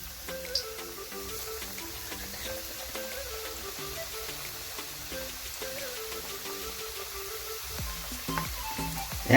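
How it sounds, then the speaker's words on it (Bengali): Pieces of marinated chicken popcorn deep-fry in hot oil, giving a steady, close crackling sizzle that runs unbroken throughout, with a low tonal layer beneath and a brief louder burst at the very end. "এবার এটাকে ভেজে নেব।"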